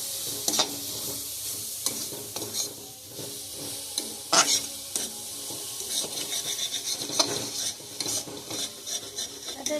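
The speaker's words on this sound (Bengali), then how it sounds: "এবারে নাড়াচাড়া করে দিচ্ছি" Cauliflower paratha filling seasoned with cumin powder and garam masala is stirred in a hot pan, steady sizzling under repeated scraping strokes of a spatula against metal, close and moderately loud.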